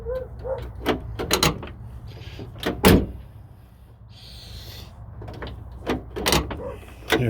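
A 2007 Honda Ridgeline tailgate is shut and opened, giving a few sharp latch clunks and thuds amid soft mechanical rattles, close by and fairly loud, with no talking.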